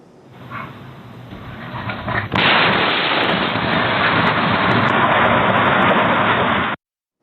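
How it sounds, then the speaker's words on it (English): A house explodes: a sudden heavy boom bursts out, followed by a sustained loud roar and rumble that fills the scene for several seconds before cutting off abruptly, heard from a doorbell camera a few doors down. "Ring doorbell video from a few doors down captured the moment of the explosion"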